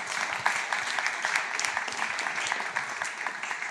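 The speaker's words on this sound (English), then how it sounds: "A round of applause for our fantastic panelists." Audience at a real estate and construction business forum applauds a panel, dense sustained clapping from a crowd filling the room, even and continuous without pause.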